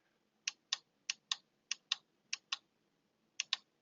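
A rechargeable Anhay LED work light's button is clicked repeatedly, nine crisp, close plastic clicks in quick irregular pairs against near silence.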